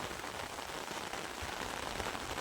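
Steady rain falls all around in the open countryside on a hill, a dense, even hiss of drops without pauses and no voices.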